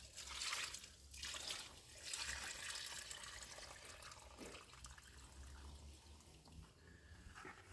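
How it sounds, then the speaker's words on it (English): Water is poured off gold sluicing concentrates in a big bucket in a back yard, a faint, uneven stream of sloshing and dribbling that comes in surges. "What I'll do is I'll get some of this water off the concentrates."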